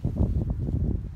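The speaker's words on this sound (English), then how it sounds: "Apologize for the wind." Wind buffeting the microphone in low, rumbling gusts, a muffled continuous roar with no voices.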